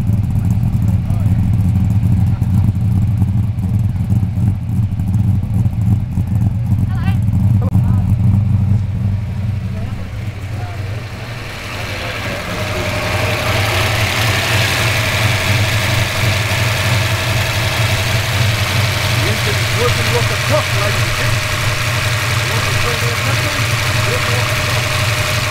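A tuned V8 muscle car idles loudly and close at an outdoor charity car show at Maroubra Beach in Sydney, its deep rumble shifting midway into a smoother, higher steady engine note.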